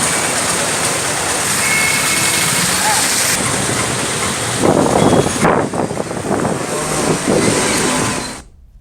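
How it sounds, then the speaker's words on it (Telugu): Heavy rain driven by gusty winds roars in a loud, dense wash, with buffeting gusts surging midway before the sound cuts off abruptly at the end. "ఈదురుగాలులతో కూడిన వర్షం పడింది."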